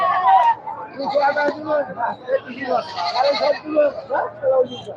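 Large Pakhi goats at a crowded Sunday goat market give a string of wavering bleats, near and fairly loud, mixed with people talking nearby.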